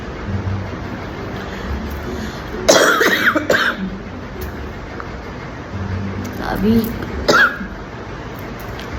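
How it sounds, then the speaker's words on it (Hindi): A person coughs in two short harsh bursts a few seconds apart, close to the mic, with speech and faint background traffic noise around them. "खांसी गई नहीं मेरी।"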